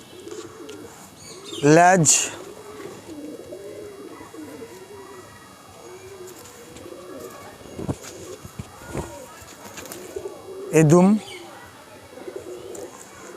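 Pigeons of a good breeding line cooing indoors, soft rhythmic coos running low under someone talking, with two louder bursts of wing flutter or calls standing out.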